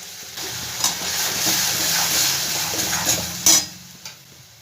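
Chicken masala for chicken singara frying in a pan as tomato paste is stirred in, a steady sizzle broken by scraping strokes and a couple of sharp clinks of the spoon against the pan.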